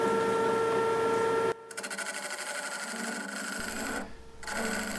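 A wood lathe spins at around 760 RPM, a steady mechanical whir with a faint tonal hum. It cuts into a softer, rougher running sound partway through with a brief dip near the end.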